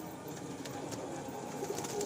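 Pigeons coo softly in a loft kept for sale, low faint calls murmuring under quiet room noise over a couple of seconds.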